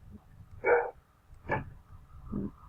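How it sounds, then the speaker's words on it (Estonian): Three short, separate dog barks from a sound effect in the Isle of Tune music-building game, spaced about a second apart over a quiet background. "No näiteks paneme koera haukumine."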